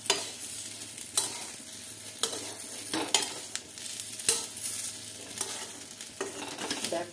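Chicken 65 fries in a pan while being stirred, a steady sizzle broken by repeated scraping clinks of the spoon against the pan, close and clear.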